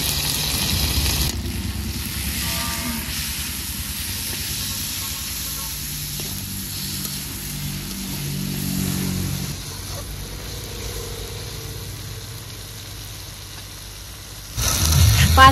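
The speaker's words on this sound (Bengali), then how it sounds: "পাঁচ মিনিট মতো ভালো করে মশলাটা কষে নিয়েছি।" Ground spices with salt and turmeric cook in a pan for a shahi mutton curry, giving a steady low sizzle and hiss with some stirring, and a louder burst at the very end.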